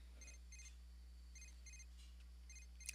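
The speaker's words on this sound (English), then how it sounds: "I'm really tired of hearing this beeping." Short electronic phone beeps in the video game Teen Mom Challenge, repeating in quick pairs with brief gaps, fairly faint over a low steady hum; no voices.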